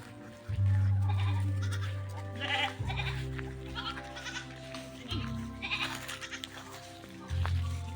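Several goats bleat loudly and close by inside their pen, long drawn-out calls following one after another, with a muffled human voice faintly in the background.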